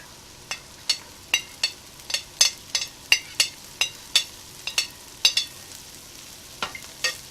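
Peas being fried with potatoes and spices in a pot for a prawn, potato and pea dish, a soft background sizzle broken by a regular series of sharp spoon knocks and scrapes while stirring.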